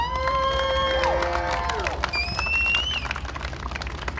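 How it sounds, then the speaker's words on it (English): Crowd applause and cheering at an outdoor Black Lives Matter anniversary observance, a loud sustained wash of clapping and voices with whistles and shouts over it, tapering off after a few seconds. "So I want everybody to give Steve a round of applause."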